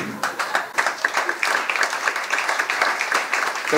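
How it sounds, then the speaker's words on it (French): Audience at a French stand-up comedy show applauds in a loud, uneven burst of clapping, with some crowd noise mixed in. "N'applaudissez pas ça, n'applaudissez pas ça."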